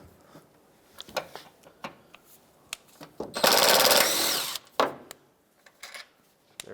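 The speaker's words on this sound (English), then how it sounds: "You'll see two 10 millimeter bolts, one on each side. Let's remove those." A power tool spins out 10 mm bolts on a 2001-2007 Toyota Highlander during wiper transmission work: one sustained whirring burst of about a second, set among scattered clicks and taps close by.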